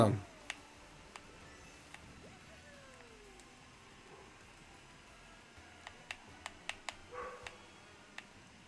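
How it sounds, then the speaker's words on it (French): A dog barks in short bursts, a few spaced yelps early and then a quicker cluster near the end, faint and somewhat distant over quiet background. "Ah, mon chien qui aboie."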